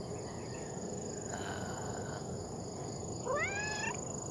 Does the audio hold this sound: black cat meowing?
yes